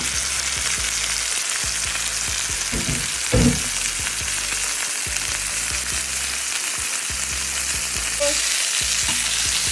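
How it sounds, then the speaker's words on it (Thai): Beef steak fries in hot oil in a pan, giving a loud, continuous crackling sizzle close up, with a few soft bumps as the meat is moved. No one speaks. "พอน้ำมันเริ่มร้อนนะคะ เอาเนื้อลงไปทอดในกระทะได้เลยค่ะ"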